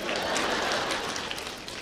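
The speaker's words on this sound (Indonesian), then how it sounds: "Dan tepuk tangan Pak." A church congregation applauds during a sermon, a steady wash of many hands clapping that fills the room, with some voices mixed in.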